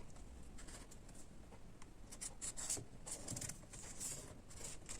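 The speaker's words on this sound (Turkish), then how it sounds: "Ve bunu da bir kartona koyuyorum. Dairesini çiziyorum." A pen or pencil traces a circle onto cardboard, a steady scratchy scribbling rub that continues for several seconds, close and quiet, with no voices.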